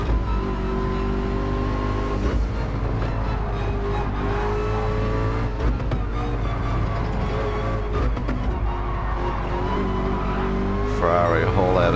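Race cars roar around the Deep Forest track in Gran Turismo 7, engines droning steadily at high revs with shifting pitch and brief bumps, under continuous commentator talk.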